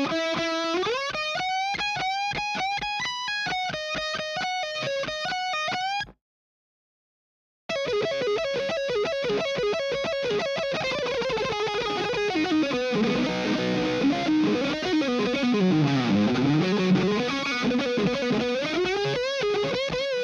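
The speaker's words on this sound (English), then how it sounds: "So our last two measures sound like this." Distorted electric guitar plays the last two measures of a song, a sustained riff with stacked harmonics, a brief full stop, then dense fast picking and sweeping bends to the end, loud and unaccompanied.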